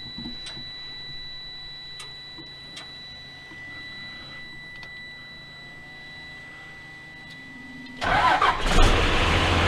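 A car, already in neutral with its battery just reconnected, sits silent through faint ticking until its engine suddenly cranks and catches near the end, loud and close.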